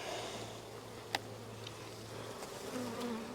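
Honey bees hum steadily at an open production hive during an inspection, a close, continuous buzz with a soft tap partway through.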